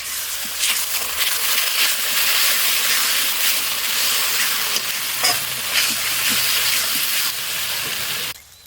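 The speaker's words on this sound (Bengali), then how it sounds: "এবারে ভেজে রাখা আলুগুলো দিয়ে দেবো। সামান্য একটু জল দিয়েছি।" Fried potatoes dropped into a simmering fish curry with a splash of water, giving a steady broad sizzle and frying hiss with occasional stirring scrapes, close and continuous throughout before cutting off at the end.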